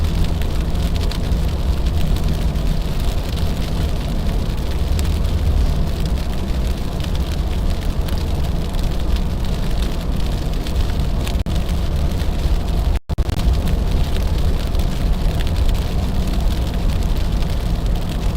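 Sleet hisses and patters steadily on a car during a winter storm drive in New York. The dense, even wash of noise runs throughout over a low road rumble, with no talking.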